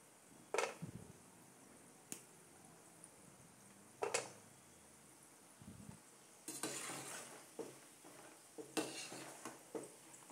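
Sevai fries quietly in a pan while being stirred, with soft scraping and a few sharp clinks of the utensil against the pan, spaced irregularly and then busier toward the end.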